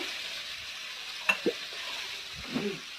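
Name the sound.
cooking beets, potatoes and eggplant in a pan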